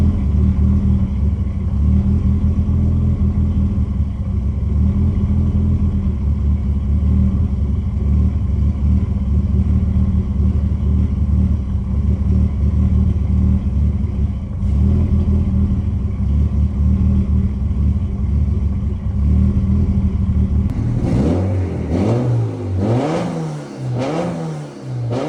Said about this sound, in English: I can already tell how much better the car runs just from that